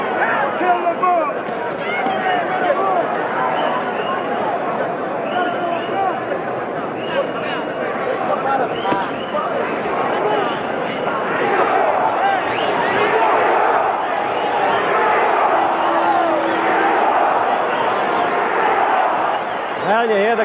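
A large boxing arena crowd roars and chants in a dense, rolling wall of voices that swells and recedes, with a commentator talking over it.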